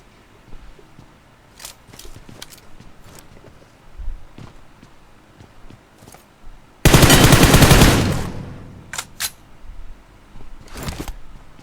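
Gunfire in a video game shooter: scattered single shots and footstep-like clicks, then a loud sustained burst of automatic fire lasting about a second, followed by more sporadic shots.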